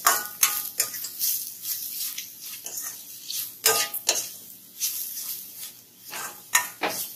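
A spoon scraping and stirring through carrot rice with turmeric in a pan, with irregular scratchy strokes and a faint sizzle underneath, close and moderately loud.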